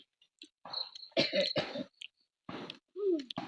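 Several close, sharp coughs with throat clearing break out in short bursts between quiet pauses, in a home kitchen where a tender jackfruit stir-fry is being eaten.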